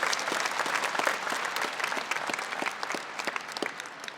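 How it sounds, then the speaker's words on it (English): Dense, sustained applause from an audience at a university graduation ceremony, many hands clapping together at a steady, fairly loud level with no voices standing out. "can we give them another round of applause,"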